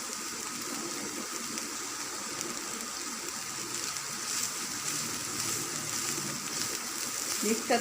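Shredded cabbage and chicken fry in a pan for spring rolls, giving a steady, close sizzle and hiss that runs throughout with some faint clatter underneath.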